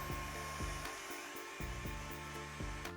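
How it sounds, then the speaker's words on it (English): Hair dryer blowing steadily at close range while drying fresh paint on a Halloween prop, a continuous whir with a faint pulsing hum and no talking. "Let's go ahead and get a hair dryer and speed it up a little bit."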